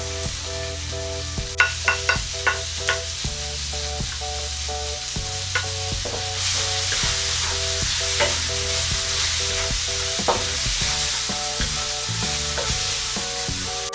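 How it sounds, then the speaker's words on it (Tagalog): Onions fry in a hot pan, a steady crackling sizzle punctuated by a run of rhythmic spatula taps early on and scattered scraping knocks as they are stirred, close by with no speech. "Ngayon ay pwede ko na pong isunod itong sibuyas."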